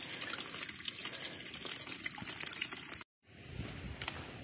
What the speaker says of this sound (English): Fill it up as best I can.